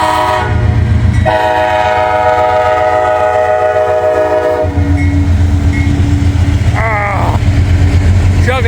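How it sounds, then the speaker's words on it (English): CSX freight locomotives roll past close by in fog, a loud continuous diesel rumble and horn-like tones over rattling wagons, with a sharp squeal near the end. "Locomotives are working, man."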